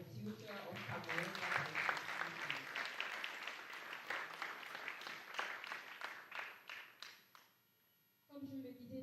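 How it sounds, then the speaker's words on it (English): A conference audience at an ICT for Africa summit in Cameroon claps in a sustained round of applause, dense and even, fading briefly near the end before clapping resumes. "Can you have a round of applause for the future of Cameroon?"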